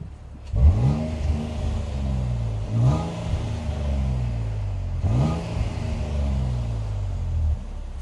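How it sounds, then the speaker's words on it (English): A 2026 Nissan Armada Nismo SUV engine revs hard three times in succession, its retuned exhaust rising to a roar and falling back to a deep idle rumble between blips. "it also has a special retuned exhaust"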